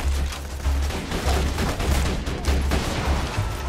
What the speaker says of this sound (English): Ah, look at that gas can explosion.